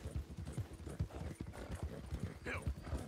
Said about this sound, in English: Let's sell this horse.